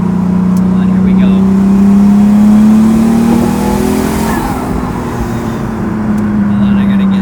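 A 750hp twin-turbo Lamborghini Diablo accelerates hard, its engine drone loud and close with the pitch climbing steadily before easing slightly, running continuously with a brief voice heard over it.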